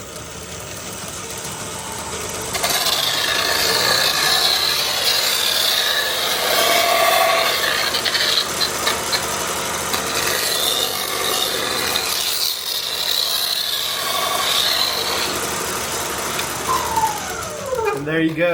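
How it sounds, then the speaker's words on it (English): A 2x72 belt grinder removes burrs from a fiber-metal pipeliner welding hood, giving a loud continuous abrasive grinding roar that starts after a short lead-in and runs for about fifteen seconds before fading. "I'm going to use my 2x72 belt grinder to do it."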